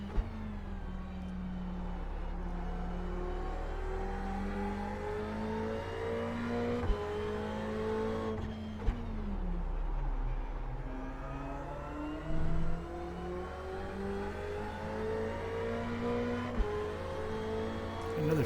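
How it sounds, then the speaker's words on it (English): GT race cars in a sim racing game at Autodromo Nazionale Monza, an engine revving up through gears with repeated rising pitch sweeps, shift drops and a brief dip as the car slows before accelerating again, steady and loud. "Another fast car coming up behind me."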